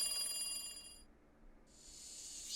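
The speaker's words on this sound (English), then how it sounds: "The phone continued to ring inside of Tomatake's empty hotel room." Telephone ringing in the Higurashi visual novel game, an empty hotel room setting; a faint electronic trill rings for about a second, falls silent, then another ring begins, with no voices.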